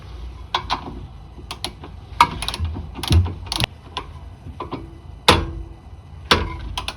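A ratchet works on a nut during a 1988-1992 Toyota Corolla CV axle replacement, giving irregular bursts of sharp metallic clicks close up, with short pauses between strokes.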